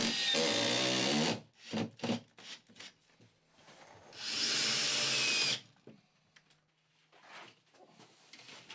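A power screwdriver drives screws into a cement board for a bathroom wall, with two loud sustained whirring bursts broken by scraping and handling sounds.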